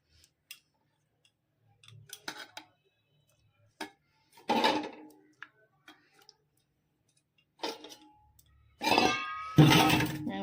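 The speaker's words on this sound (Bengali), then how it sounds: "মাছটা দিয়ে দিচ্ছি টিফিন কৌটোটার মধ্যে" Hilsa fish pieces are set into a metal tiffin box in sparse, quiet clinks and clicks with long pauses, ending in a louder cluster of metallic rattling and scraping.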